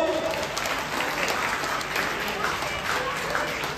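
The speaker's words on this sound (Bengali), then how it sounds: "আরেকবার হাততালি হোক" Audience at a club event applauds, dense sustained clapping from a crowd, loud and close throughout with faint voices underneath.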